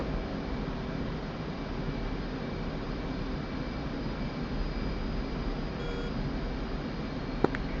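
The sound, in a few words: airplane and lock-on beeps in a flight video game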